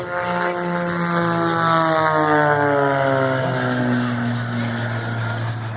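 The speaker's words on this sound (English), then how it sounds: "Fired up. Czechoslovakian jet." A Czechoslovakian jet aircraft fires up its engine at an airfield, a loud, steady roar with harmonic tones sliding in pitch as it spools, close by and continuous without talk.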